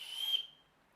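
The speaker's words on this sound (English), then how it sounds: "Same thing, has the whistle." A single short, shrill whistle blast from the built-in whistle of a Petzl Actik Core 350 headlamp, fairly loud and close, fading out quickly into silence.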